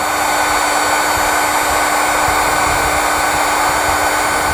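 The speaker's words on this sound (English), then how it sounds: "Now we'll take our heat source, shrink up our butt connectors." Heat gun blowing steadily while shrinking heat shrink butt connectors on a trailer wiring harness, a constant loud airy roar with a fixed hum and no pauses.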